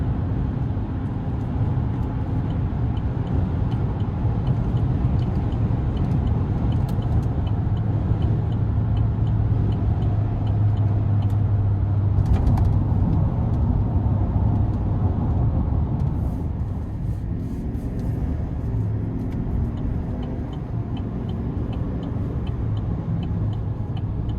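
A 2026 Chevrolet Silverado 2500HD Custom Z71 pickup rolls along in a steady low road and engine rumble heard from inside the cab, with faint clunks and thumps as it crosses bumps and a brief swell midway.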